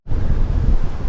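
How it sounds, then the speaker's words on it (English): Strong hurricane wind buffets and roars at Santa Ponsa beach in Mallorca, a loud, rumbling gust-driven wash of noise mixed with surf that starts abruptly and holds steady. "it is extremely windy"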